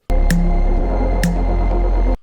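An audio effects plugin generating white noise plus an oscillator tone, a loud continuous hiss over a low steady hum with brief pulsing clicks, alone for about two seconds.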